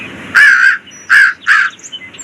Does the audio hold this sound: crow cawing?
yes